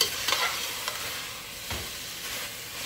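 Chicken for butter chicken sizzles and fries in a pan with masala while a spoon stirs it, giving scraping strokes over a constant frying hiss, close and moderately loud.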